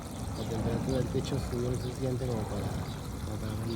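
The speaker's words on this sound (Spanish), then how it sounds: "ahí se puede escuchar cómo está pasando el agua por el caño" Water rushes and gurgles through a pipe of a WiFi-controlled solar pool heater, a continuous close pouring flow with someone talking over it.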